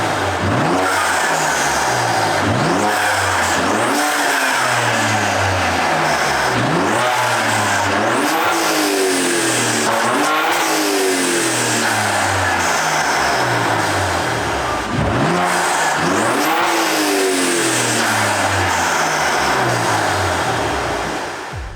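A BMW S58 engine fitted with a titanium intake setup revs repeatedly, loud and close, with sharp rises and falls in pitch and a raspy intake roar, heard alone.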